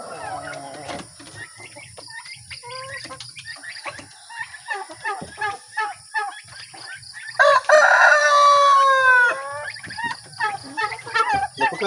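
A backyard coop in the provinces, with chickens clucking and a rooster letting out a loud crow partway through, birds calling close by amid scattered rustling.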